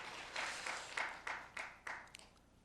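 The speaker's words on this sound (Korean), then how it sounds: "남편을 향해 박수 한번 할까요?" A church congregation claps for the husbands during a Sunday sermon, a short round of applause that rises in several swells and fades away, moderately distant and soft.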